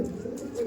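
Andhra, Kalanka or Lambari pigeons resting after vitamins, giving a brief, close, low throaty coo that hums steadily through a short moment.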